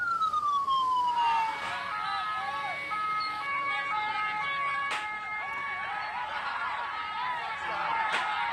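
An ambulance siren wails, sweeping downward, then steady tonal siren notes ring out with sharp knocks, loud and fairly close in a noisy street blocked by protesters.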